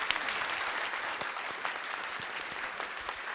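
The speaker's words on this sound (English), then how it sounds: "Could you give this young man a warm round of applause, please?" Audience at a youth engagement centenary summit applauding, dense sustained clapping from a sizeable crowd throughout.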